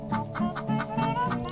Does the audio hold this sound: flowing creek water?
no